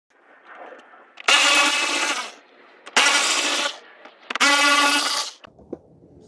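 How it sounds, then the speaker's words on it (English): Power tool removing screws and bolts from the fog lamp area under a 2015 Toyota Sienna 3.5 V6, three loud close buzzing bursts each lasting about a second, separated by brief pauses. "now we need to remove all of these screws or bolts that's holding the bottom part in place"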